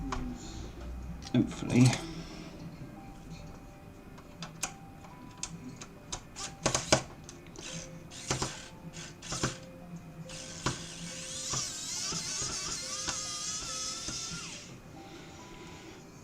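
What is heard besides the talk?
screws being removed from a GameCube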